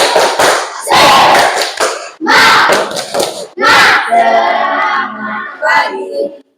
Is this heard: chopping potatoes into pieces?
no